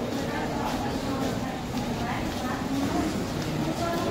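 A steady, loud rumble of a train at busy Thane railway station, with people talking throughout the continuous background noise.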